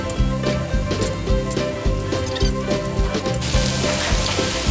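Onions fry in a hot pot, a loud, continuous close-up sizzle and crackle, partly mixed with rhythmic background music.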